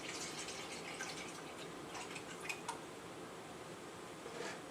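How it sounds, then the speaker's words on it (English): Water pours into a measuring cup in a home kitchen, a faint, steady trickle running for several seconds with soft splashing and no talking. "you want to do 3/4 of a cup of water"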